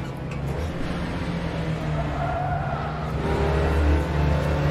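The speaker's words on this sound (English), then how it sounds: "can hear the wheels squealing." A classic mid-engine sports car in a VR racing video game, played on a motion simulator, drones steadily with engine noise and rough tire scrub under faint talk, with little distinct squeal standing out.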